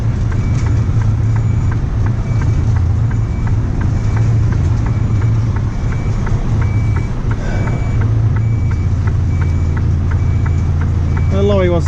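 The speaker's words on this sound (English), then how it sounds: "The lorry wants to come in now." A lorry manoeuvres with its reversing alarm beeping in a regular, evenly spaced pattern over a low, constant engine rumble, close and loud, while people talk nearby.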